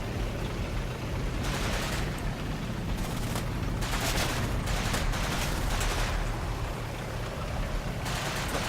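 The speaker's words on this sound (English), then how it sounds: "I think that's my artillery doing spotting rounds." Sustained distant artillery and gunfire in the Combat Mission: Final Blitzkrieg war game, with spotting rounds landing amid a dense, continuous rumble of shots and bursts throughout, without talk.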